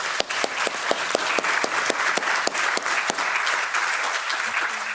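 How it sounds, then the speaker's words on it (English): An audience at an Anti-Poverty Day gathering gives warm, sustained applause, with close, sharp individual claps standing out over a steady wash of clapping for about five seconds. "I think we can warmly applaud her to welcome her"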